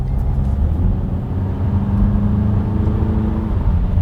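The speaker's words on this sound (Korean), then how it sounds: "그 엔진 배기음을 장점으로 승화시킬 수 있는 건 가속할 때" A 2021 Volkswagen Passat GT diesel sedan accelerating, its low, steady engine drone with faint harmonic whine rising slightly, heard from inside or close by, continuous and fairly loud with no talking.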